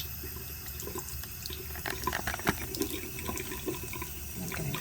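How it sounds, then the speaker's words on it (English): Hot water runs from a tap over metal being rinsed during a liver of sulfur patina, a steady close splashing stream with small clinks and shifts as the piece is moved under it. "I'm hitting it with some more hot water."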